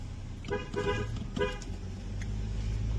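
Car horn honks in traffic on a long road trip, a few short toots close by over a steady engine and road rumble.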